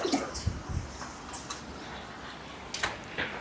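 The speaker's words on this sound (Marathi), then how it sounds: "पाणी टाकतो सगळ्यांना." Water is poured onto potted rose plants, giving a soft, steady splashing trickle outdoors with a few light knocks and taps.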